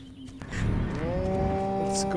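Cows in the video game Destroy All Humans! Remake give a loud, drawn-out moo that swells and holds for about two seconds, close and alone.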